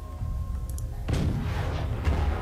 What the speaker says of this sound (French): Je vais d'abord tirer avec le canon.